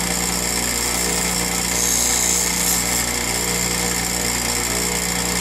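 Bench grinder sharpening a drill bit: a steady, loud, dense whine of the spinning wheel carries on without a break, with a slight swell in the grinding contact partway through.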